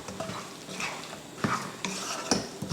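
A spoon scrapes and clatters against a metal pan while chicken varuval is stirred with coriander and curry leaves, in a quick run of close, distinct knocks over a faint sizzle.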